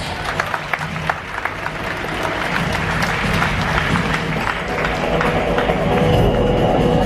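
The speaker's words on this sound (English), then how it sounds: "Folks, the stars of your show, another big round of applause." A cruise-ship audience at a hypnosis show gives the volunteers on stage a big, dense round of applause that builds steadily and keeps going, loud and close.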